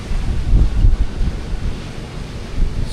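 Strong wind batters the microphone at a St Francis Bay beach as ocean surf roars steadily underneath, a loud continuous rumble with gusty swells and no voices.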